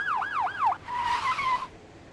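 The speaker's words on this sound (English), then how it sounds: "Are those sirens?" Police sirens wail in the video game Vampire the Masquerade Bloodlines, a rapid yelping warble that shifts into a long steady tone, fairly close and loud, with no talk over it.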